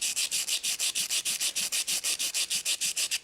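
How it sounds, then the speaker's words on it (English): Sandpaper rubbed back and forth over carved limestone on a stone capital, a steady rhythm of about twenty even, hissing strokes, close and loud, with no voices. "Then you can come in with a piece of sandpaper."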